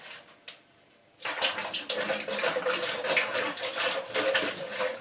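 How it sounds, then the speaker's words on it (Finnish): Leftover drinking water is poured away into a sink, a steady splashing stream that starts abruptly after a quiet moment and continues close by until the end. "Lopun mä kaadan pois."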